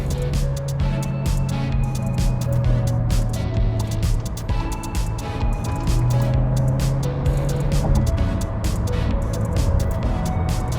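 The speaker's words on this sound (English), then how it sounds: "I'm going to downshift. I want 3rd gear, manual mode." A 2021 Volkswagen T-Roc in manual mode downshifts from fourth to third gear at about 60, its engine a steady, loud cabin drone that shifts pitch near the end.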